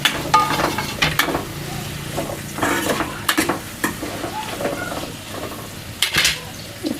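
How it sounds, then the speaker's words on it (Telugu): Carrot, capsicum, onion and potato pieces frying for veg biryani, a steady sizzle under repeated clinks and scrapes of a spoon stirring against the pan, close up. "ఇది మంచిగా ఫ్రై అయిపోయిన తర్వాత క్యారెట్ ముక్కలు, క్యాప్సికమ్ ముక్కలు, ఉల్లిగడ్డ ముక్కలు అన్నీ వేసేసుకుంటున్నా."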